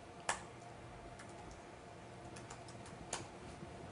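Keystrokes on a computer keyboard while working in Word, a few sharp isolated clicks spaced across a quiet stretch, faint and close with a low steady room hiss underneath.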